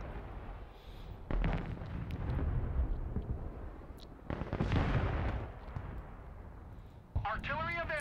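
Artillery fire in the Broken Arrow war strategy game: two heavy booming blasts with rumbling tails a few seconds apart, under near-constant talk.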